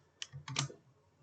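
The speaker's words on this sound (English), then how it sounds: "I'm gonna to type it" Three or four quick keystrokes click on a computer keyboard, quiet and close, with a brief cluster of taps and silence on either side.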